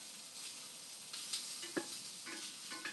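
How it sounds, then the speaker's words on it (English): Sausages searing in a hot pan on a wood stove give a steady close sizzle with occasional sharp pops and crackles, and no one speaks. "Starting to get a bit of a sear in these sausages."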